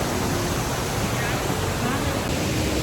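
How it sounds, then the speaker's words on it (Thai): Steady, dense rush of falling water from a waterfall in the mountain valley at Ginzan Onsen, loud and constant throughout with no pauses. "คือน้ำตก"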